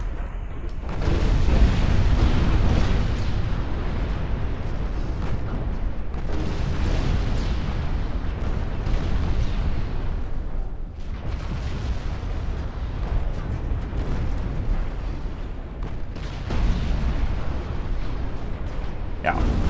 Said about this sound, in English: Lobbing shells up into the stratosphere.